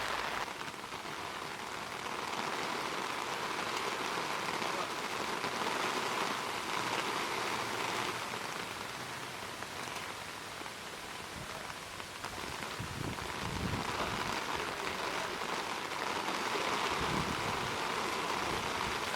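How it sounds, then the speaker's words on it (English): Steady rain pours down outdoors in a continuous, even hiss of drops striking surfaces, fairly faint and unbroken, with no talking. "I guess we'll wait for it to stop raining."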